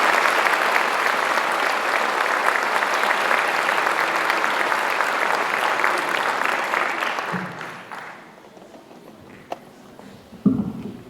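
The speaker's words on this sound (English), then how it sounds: "let's give him one more round of applause" Sustained audience applause fills a graduation ceremony hall at Garcia Early College High School, dense and steady for about seven seconds before dying away into scattered claps and room noise.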